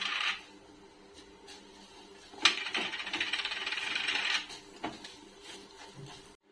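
Roasted vermicelli and dry fruits get stirred in a pan for kheer, giving scattered metallic scrapes and a stretch of dry rustling, close and quiet with no talking.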